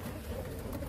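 Racing pigeons in a loft coo softly, a low, faint, continuous murmur of calls over the room's ambience.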